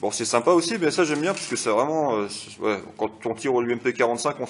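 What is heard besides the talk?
No everyday noises stand out.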